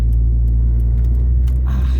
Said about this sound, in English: I'm currently just driving the car